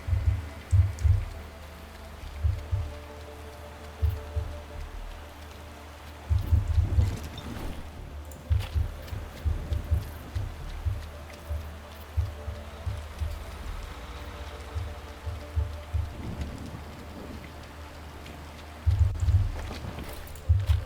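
Soft, steady rain patters in the background of the video game Bear & Breakfast, broken by frequent low thumps and bumps that come and go in short bursts.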